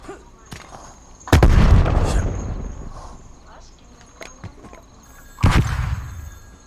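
Two heavy bomb blasts in a video game, each a sudden loud boom that trails off into a rumbling decay, separated by a few seconds of quieter clicks and small impacts.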